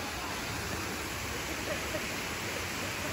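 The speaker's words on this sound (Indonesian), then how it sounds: "Tengok cantiknya air terjun dia." Kanching waterfall in a Malaysian forest park, a seven-tier cascade giving a constant dense roar of falling water, steady and close throughout.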